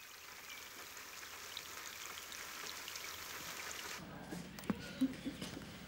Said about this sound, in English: While it rains outside